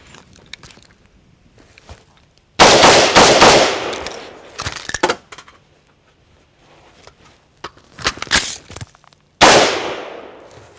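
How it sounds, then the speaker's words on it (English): A rifle magazine is emptied in loud close bursts of rapid gunfire, three separate volleys with sharp metallic cracks and ringing decay, separated by quieter pauses. "I'm gonna empty this magazine I just inserted into here. I'm gonna expend all the ammo."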